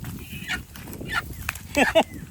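A chicken squawks and clucks in short, loud bursts, growing frantic near the end, with faint background noise.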